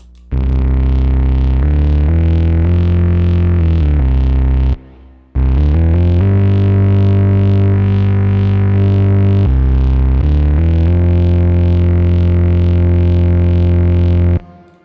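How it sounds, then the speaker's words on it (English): A loud, distorted abSYNTHe / Zeroth Law oscillator synthesizer plays a sequence of held chords with a brief gap, the notes ringing out with a lingering wash of reverb. "Now let's add a little bit of reverb."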